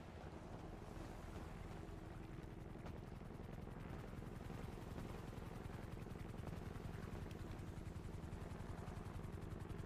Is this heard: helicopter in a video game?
yes